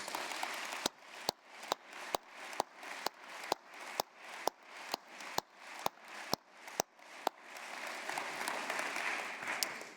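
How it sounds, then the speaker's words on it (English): Audience applause at the Stanford GSB 2014 Entrepreneurial Company of the Year award ceremony: a steady run of evenly spaced, sharp claps over a soft wash of crowd clapping that swells into fuller applause near the end. "Please join me in giving them a round of applause"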